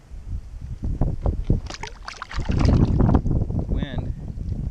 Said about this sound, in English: Wind is coming from my right to left right now